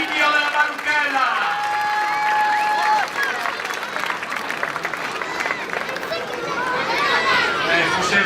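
An outdoor crowd at a village palio team presentation claps in sustained, dense applause with cheering and chatter, while a loud announcer's voice and whistles cut through the noise.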